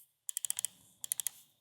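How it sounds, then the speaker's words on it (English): A computer mouse clicks in two quick close bursts, six sharp clicks and then four more, small and crisp against a quiet room. "This is the mouse moving and this is the mouse clicking."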